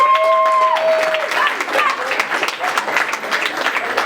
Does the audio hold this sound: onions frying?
no